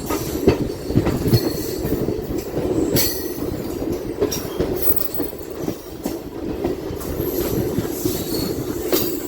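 A MEMU passenger train runs between Kavali and Tettu toward Vijayawada, heard from inside with a continuous rumble, rhythmic clickety-clack of wheels over rail joints and occasional squeals.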